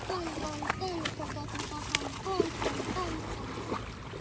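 Strong waves splash and slosh close by while people talk excitedly over the water, with irregular splashing bursts scattered through the continuous chatter.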